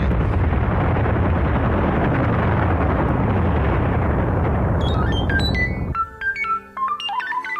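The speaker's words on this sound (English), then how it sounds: "Lock the portals on the uranium cannon." Sci-fi uranium cannon firing in a comedy space series: a long, loud, continuous explosive roar and rumble for about six seconds, then cutting abruptly to bright electronic beeping tones.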